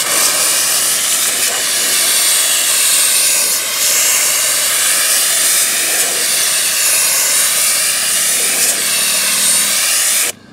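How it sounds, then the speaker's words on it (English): A steam cleaner blasts a loud, continuous roaring hiss around a car emblem, holding steady for about ten seconds before cutting off abruptly. "I'm going to get my steam going, and what I'm going to do is I'm just going to come in here and steam and blow my steam around the edges"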